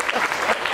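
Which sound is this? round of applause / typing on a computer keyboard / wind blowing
round of applause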